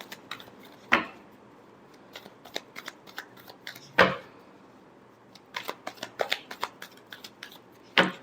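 Tarot cards being shuffled in a quiet room, giving several sharp riffling bursts with soft flicks and taps of single cards between them, close and alone with no talk.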